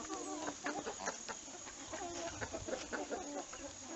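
Geese resting in the shade on a small farm give a busy mix of honks and clucking calls, moderately close but fairly quiet, with overlapping voices throughout.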